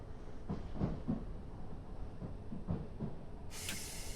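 Simulated train running on the St Albans Abbey branch line in Train Simulator 2017, a steady low rumble with soft rhythmic wheel clicks, then a sudden bright hiss near the end.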